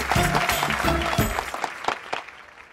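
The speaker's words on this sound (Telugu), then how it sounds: "చప్పట్లు కొడుతున్నాను కదా" A few sharp hand claps ring out in a comedic Telugu film scene, following a burst of voices and tones, then sounding as scattered separate slaps that fade near the end.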